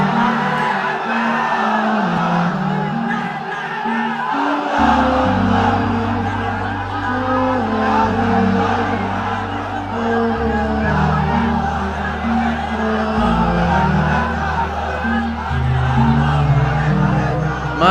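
A mosque congregation raising a loud collective shout of the takbir, with massed voices filling the space as a sustained, rolling roar throughout.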